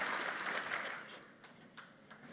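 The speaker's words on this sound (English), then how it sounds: "give him a round of applause one more time" An audience at a commercial business panel event applauds in a steady wash of clapping that gradually thins out, with a few louder claps near the end.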